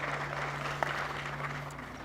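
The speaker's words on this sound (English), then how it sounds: "I'll clap for you." Brief patter of audience applause at a mayors' fitness challenge event, moderate and steady for about two seconds over a low hum, with no distinct voices.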